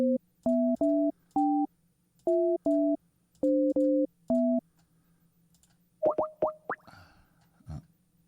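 A telephone busy signal follows dialing an American number: evenly spaced two-tone beeps repeat clearly several times, then stop and give way to a few soft clicks and a clunk.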